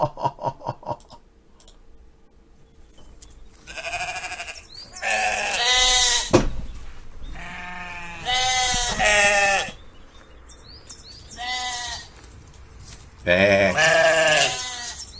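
Sheep bleating inside a song, several loud, wavering bleats arriving in bursts over about fifteen seconds, separated by quieter musical passages.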